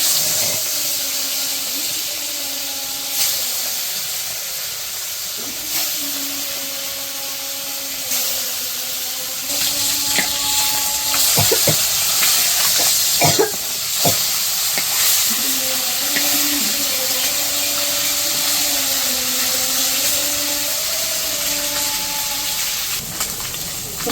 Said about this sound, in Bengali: মাছ তো মাখাই নিচ্ছি, আমি ভেজে নেই।